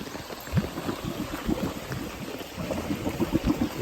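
Floodwater bubbling and gurgling up from a road drain that runs under the road, a faint, irregular burble of small splashes and pops throughout.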